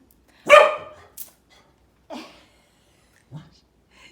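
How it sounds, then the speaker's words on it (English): A dog barks in short separate bursts, one loud bark up close followed by a few fainter, spaced barks and yips, with a person's voice audible at moments. "She's gotten very barky lately."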